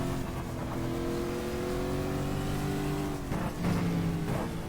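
Riley & Scott Mark IIIA Cadillac race car engine at Willow Springs in the GTR2 racing game, a steady loud drone holding pitch, then dipping and climbing again near the end as the revs change.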